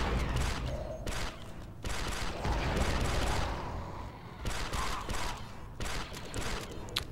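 Rapid bursts of pistol fire in Star Wars: Republic Commando, a clone commando blasting battle droids amid dense, clattering combat noise, with shots overlapping in quick irregular volleys throughout.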